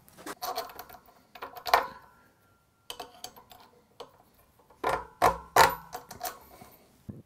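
A freewheel tightening tool snugs a lock ring down on a Bafang RMG060 hub motor, giving sharp metallic clicks and clanks in irregular bursts with short pauses, close and fairly loud, with no talking.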